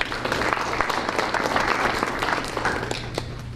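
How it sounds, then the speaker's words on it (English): Audience applause at a county school board meeting, a steady wash of many hands clapping at moderate volume, heard alone and lasting the full length. "So let's give Jeff a round of applause."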